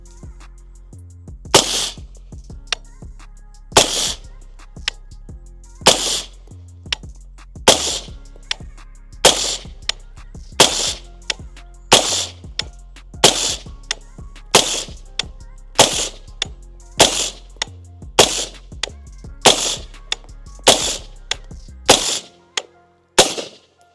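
A .22 rifle fired through a Replicator ACER suppressor, a steady string of about twenty sharp, loud, evenly spaced suppressed shots close by, with no talking between them.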